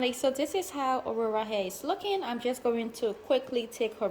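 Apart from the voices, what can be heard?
No everyday noise stands out behind the speech.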